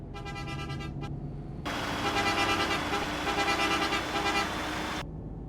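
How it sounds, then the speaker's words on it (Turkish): Scania Touring coach horn in Euro Truck Simulator 2 sounds in a short burst near the start, then a second longer, louder blast of several seconds over steady engine and road noise, with no talk. "Kornaya bak."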